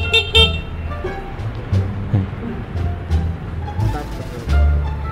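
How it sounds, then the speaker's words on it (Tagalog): Horn on a Yamaha Sniper 150 motorcycle, switching between the stock horn and a loud aftermarket horn: several short honks and toots at irregular intervals, close by, mixed with someone talking. "para yan sa stock horn. Tapos tong isa para naman sa loud horn"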